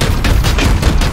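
Dense burst of gunfire from a squad in the turn-based game Warhammer 40K: Chaos Gate - Daemonhunters, a continuous loud fusillade of rapid overlapping shots with heavy low-end impacts filling the whole moment.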